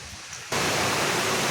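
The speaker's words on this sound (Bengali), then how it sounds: "ঝর্ণাটা প্রবাহিত হয়ে আসছে, এইদিকে ঝর্ণার জল চলে যাচ্ছে" A waterfall stream flowing out of a cave mouth at the stone-paved Panchalingeswar temple compound roars in suddenly after half a second of quiet, a loud, even, close rushing of water.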